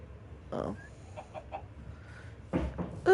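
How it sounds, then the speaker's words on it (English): Short clucks from chickens in Minecraft, a few separate bursts spread across a quiet background, with a sharper, louder squawk at the very end. "Oh, it's a gravity chicken."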